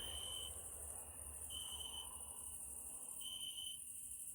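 Crickets chirp steadily through a quiet Ukrainian village evening, a continuous high shrill trill with a few louder bursts, fairly far off and alone with no talk.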